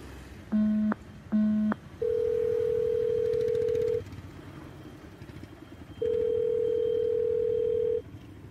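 A telephone call being placed: two short dual-tone keypad beeps, then two long steady tones separated by a gap of quiet, heard clearly with faint background noise and no talking.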